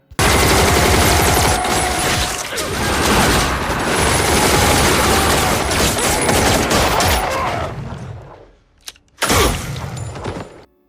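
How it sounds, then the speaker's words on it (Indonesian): Sustained machine gun fire from an action film, a dense, loud fusillade of rapid shots with shattering debris that fades out briefly before one more sharp burst of gunfire. "tiba-tiba Otto dan yang lain langsung memberondong para gangster itu"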